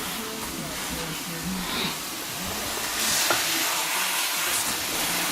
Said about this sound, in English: The turkey sausage is cooking